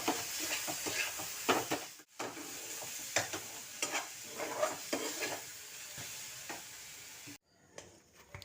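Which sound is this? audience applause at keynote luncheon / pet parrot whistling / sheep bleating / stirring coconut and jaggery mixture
stirring coconut and jaggery mixture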